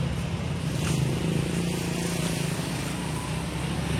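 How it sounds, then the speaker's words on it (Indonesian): Steady roar of road traffic, with engines of passing cars and motorbikes droning continuously at moderate distance. "Ini ada suara-suara mobil, ada suara motor."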